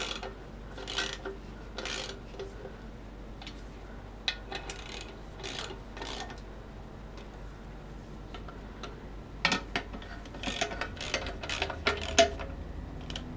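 Ratcheting torque wrench tightening bolts on a Ford FMX transmission during a rebuild, close, irregular bursts of clicking and metallic taps against a quiet workshop background.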